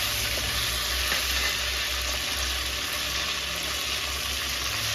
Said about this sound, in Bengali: আর এখন আমি দিয়ে দিচ্ছি এটার মধ্যে আদা আর রসুনের পেস্ট একটা